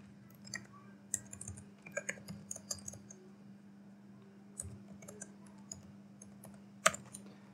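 Rapid, uneven clicks of fingers typing on a computer keyboard while text is entered into a web form, keystrokes coming in short bursts with brief pauses over a steady low hum.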